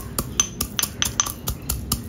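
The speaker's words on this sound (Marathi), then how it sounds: "आपण याला खलबत्त्यात वाटून, मी याला काही मिक्सरला लावून एकदम बारीक पेस्ट नाही करायची" Whole spices are pounded in a mortar and pestle: sharp, close, regular knocks about every quarter second with bright clinking accents, alone without speech.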